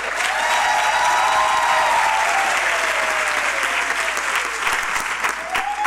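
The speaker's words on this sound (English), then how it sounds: "this choir deserves yet another round of applause" An audience at a university graduation ceremony applauds a choir with steady, full clapping that runs for about six seconds, with a faint tonal hum from the hall carried underneath.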